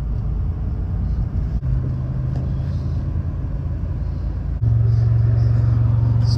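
A Dodge Stealth RT fitted with fresh shocks drives along with a steady, loud low engine and road rumble from inside the cabin, the drone stepping up in pitch twice as it shifts.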